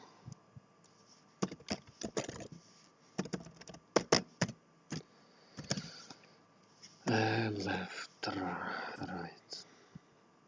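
Keys clatter on a computer keyboard as a name is typed in SketchUp furniture-design software, a run of quick close taps in short bursts, followed by a softer steady rustle and whispery sounds near the end.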